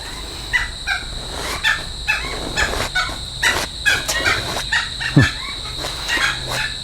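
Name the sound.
birds calling outdoors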